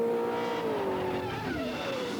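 Formula First race cars scream past on the Manfield circuit, engines howling with falling pitch as they sweep by, tires squealing, all loud and continuous with no voices.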